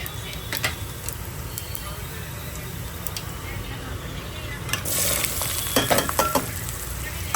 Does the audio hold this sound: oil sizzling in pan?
yes